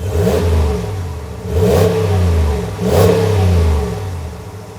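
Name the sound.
V8 pickup truck exhaust revving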